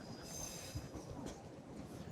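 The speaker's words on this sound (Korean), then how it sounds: "기차가 오네요." A train rumbles steadily past a seaside coastal walking trail with a wooden deck path, sounding as a continuous broadband roar with faint wheel squeal. It is moderately quiet and unbroken, with no talk.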